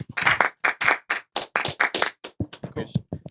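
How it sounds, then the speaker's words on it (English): A quick round of clapping from a few people in a podcast studio, uneven hand claps tightly packed for about three seconds, with voices mixed in. "Round of applause real quick."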